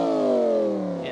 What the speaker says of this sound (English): you come across a car with a swap that sounds like this